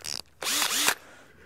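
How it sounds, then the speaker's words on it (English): A power drill fitted with an 8 mm bit widens a hole in a wooden bird box, giving a short, loud whirring burst that rises and falls in pitch after a brief earlier rattle. "This is an 8 millimetre bit,"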